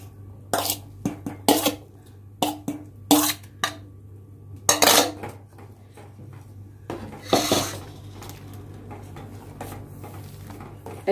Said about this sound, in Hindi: ऐसे चला चला के हम थोड़ी देर इसको पकाएंगे